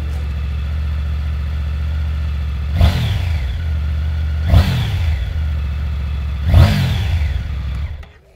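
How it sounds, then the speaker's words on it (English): A Triumph Tiger 900 GT motorcycle's inline-three engine idles steadily, then is revved three times in quick blips, each rise falling back to idle, before it cuts off. The engine sounds more like a twin. "this engine actually sounds more like a twin than an inline 3."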